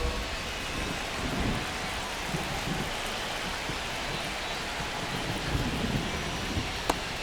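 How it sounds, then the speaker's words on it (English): Steady rain falls on a baseball field, a dense even hiss of drops with faint low rumbling underneath and one small sharp tick near the end. "the field's not going to be able to hold up if the rain gets any worse than this"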